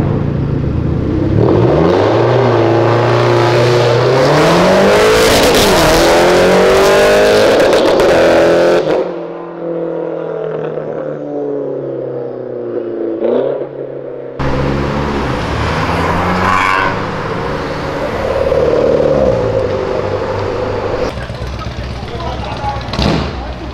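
A BMW fitted with a 2JZ engine accelerates hard along Avenida Europa in a street race against a Civic Si. The loud engine climbs through rising revs, breaks off abruptly, then returns in a second strong pull.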